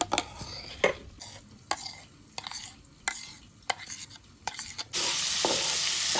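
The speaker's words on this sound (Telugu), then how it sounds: "చికెన్ అయితే ఇలాగా ఫ్రై అవుతుంది ఫ్రెండ్స్" Chicken frying for shawarma sizzles softly under a run of sharp, rhythmic clacks and scrapes of a spatula stirring the pan, then a louder, steady hiss takes over near the end.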